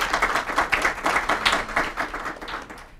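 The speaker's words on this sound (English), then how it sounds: "everybody would just join me in giving them a round of applause" Audience applause at a panel discussion event, a dense steady patter of many hands clapping at moderate loudness with no voices over it.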